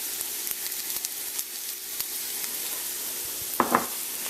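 Browning onions, garlic and curry powder sizzle in a pan for a potato curry, a dense crackling hiss with small pops, then a brief spoon-against-pan scrape toward the end.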